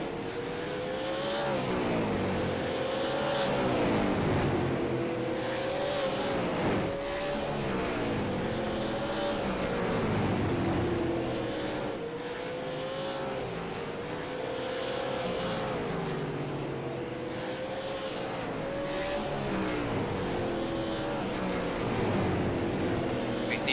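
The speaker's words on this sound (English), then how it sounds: "we see Barnes immediately trying to apply pressure back onto the rear bumper of the 8 machine" Super late model race cars racing at Slinger Speedway: loud, continuous engine roar with repeated rising and falling pitch sweeps as cars pass and throttle through the turns, a steady wash of crowd and track ambience underneath.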